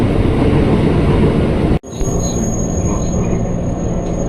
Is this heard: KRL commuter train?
yes